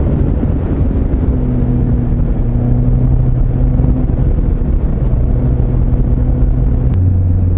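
A Kawasaki ZZR1100 and a Yamaha MT-09 ride the Okutama Shuyu road in Japan, heard as a steady, loud engine drone and road rumble with shifting pitch and no talking.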